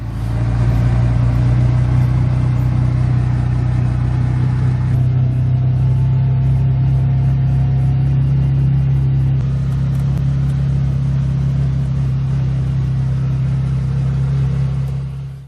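Vehicle engine driving along an unmaintained winter road off grid in Maine, a steady low rumble heard close and constant, with a slight change in tone partway through.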